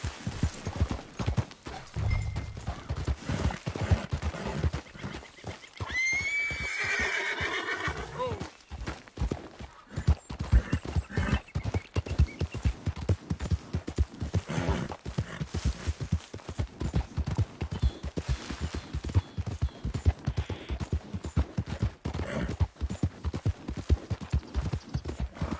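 Horse hooves clip-clop steadily at a gallop through Red Dead Redemption 2, with a whinnying neigh rising midway; a voice talks intermittently over the hoofbeats.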